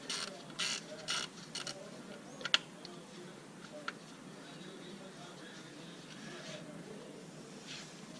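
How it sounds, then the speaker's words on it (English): Small clicks and ratcheting taps from a wrench working the bottom coil pack bolt on a Mercedes-Benz CL600 (W215) engine, a few sharp metallic ticks early on, then quiet mechanical fiddling and faint handling noise. "so now we're removing the bottom bolt"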